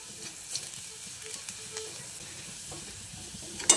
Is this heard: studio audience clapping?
no